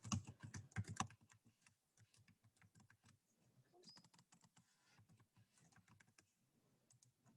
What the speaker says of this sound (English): type our answers in real quick